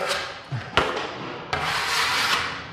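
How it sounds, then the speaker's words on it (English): A trowel scraping and smoothing joint compound over a drywall repair, a continuous close rubbing swish with a couple of sharp knocks, no talk over it. "Again, trowel over it."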